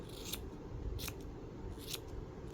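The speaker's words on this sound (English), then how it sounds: "Let me trim our pom-pom up." Scissors snip at a yarn pom-pom on a handmade knitted hat, three crisp, close cuts spaced about a second apart over a steady low background hum.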